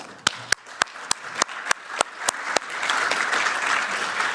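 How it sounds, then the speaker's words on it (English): Applause from a conference audience for a keynote speaker on the digital euro: a few sharp, evenly spaced claps at first, then the whole room joins in a steady wash of clapping. "Please join me in giving a round of applause to our keynote speaker, Mr. Cipollone."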